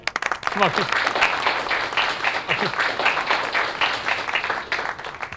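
Applause in a coaching-class demo session in Mukherjee Nagar, steady clapping from a room of students lasting several seconds, with a voice briefly speaking over it near the start.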